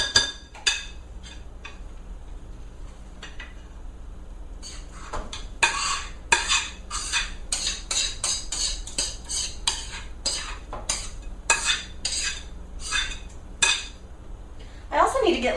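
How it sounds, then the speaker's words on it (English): Vermicelli being stirred and tossed in a heavy mixing bowl while making chicken tetrazzini, with repeated clanking of a utensil against the bowl in irregular bursts, close and fairly loud. "stir in the vermicelli and toss well"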